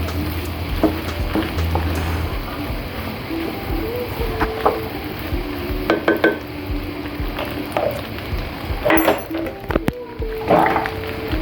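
Pasta being stirred with ground black pepper in a pan on a home stove: soft scraping and squishing stirs with light clicks of the utensil, quiet and close over a faint steady background hiss.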